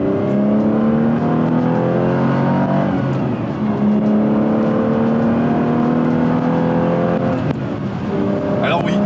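Aston Martin Vanquish S from 2005 with a robotized gearbox accelerating hard, its loud engine note climbing steadily with slow, distinct pauses at each gear change, heard close up.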